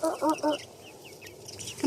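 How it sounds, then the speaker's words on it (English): Small quail cluck in a few quick bursts up close, followed by soft high chirps and peeps at lower level. "You're going to start clucking."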